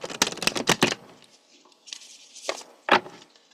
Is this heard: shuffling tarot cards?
yes